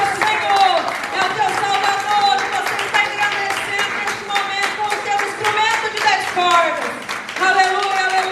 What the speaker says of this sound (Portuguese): Aplauda esse Deus todo-poderoso, que é digno de toda a nossa adoração, o nosso louvor